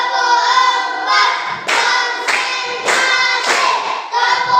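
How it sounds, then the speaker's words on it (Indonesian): A class claps in unison to a counting clap routine, six or seven sharp group bursts in a steady rhythm, close and loud, with voices chanting between them. "semangat, tepuk empat"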